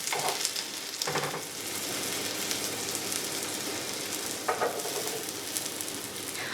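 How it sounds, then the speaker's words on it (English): Toast filling sizzles and fries steadily in a pan after being flipped, a continuous close crackle broken by a few brief scraping or stirring touches, with no talking. "After cooking for 3 minutes, flip it over."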